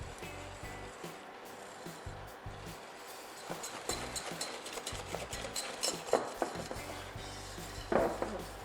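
Cornstarch being whisked into a lemon cream mixture in a pan for lemon religieuse, a soft scraping swirl that grows busier, with scattered clinks and knocks of metal on cookware, fairly faint and close.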